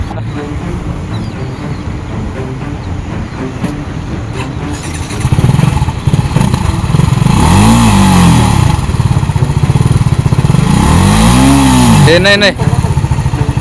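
A vehicle stuck by the sea, with waves surging close by, revs its engine loudly in repeated rising and falling bursts, and people call out over the noise.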